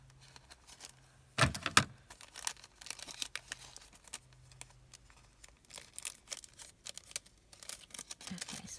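Scissors snipping across a paper ticket or receipt, a short crisp burst of cutting followed by quieter crinkling and handling of the paper, close and fairly faint.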